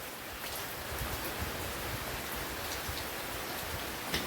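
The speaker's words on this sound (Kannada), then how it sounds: "ಮಳೆ ಬರುತ್ತದೆ, ಕರೆಂಟ್ ಇಲ್ಲ ಇವತ್ತು" Heavy Sunday morning rain pours down in a steady, even hiss, faint and distant, with no voices and only a small tap near the end.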